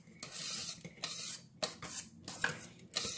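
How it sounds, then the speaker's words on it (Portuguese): Repeated scraping strokes of a spoon against a hard blender jar, several bursts of raspy rubbing with short pauses between, close up. "vamos raspar bastante o liquidificador"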